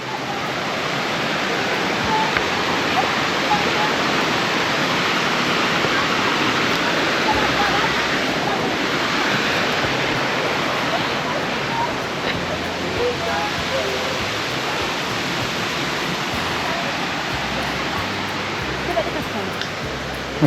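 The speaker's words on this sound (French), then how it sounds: "nous voici arrivés aux fameuses cascades de Roquefort" Roquefort waterfalls in Ariège pouring steadily, a dense continuous roar of falling water close by, constant in level throughout with no clear voices over it.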